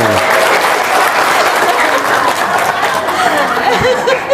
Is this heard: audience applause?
yes